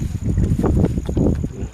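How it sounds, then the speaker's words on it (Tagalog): Wind gusting across a microphone outdoors during a night fishing trip, a steady low rumbling buffet with rising and falling surges, fairly loud and continuous with no voices. "Mahangin pa."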